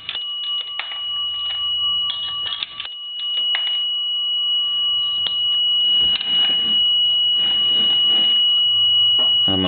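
A dime dropped into a chrome A&E three-slot payphone strikes the coin bell, giving sharp metallic rings and a sustained bell tone, close and loud, among handling clatter.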